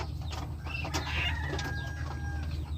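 Serama bantam chickens clucking in a backyard coop, a few soft chirpy calls over a steady low background hum, fairly close.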